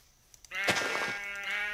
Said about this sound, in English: There's a sheep over there.